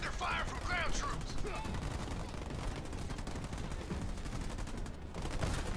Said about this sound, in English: Under fire from ground troops!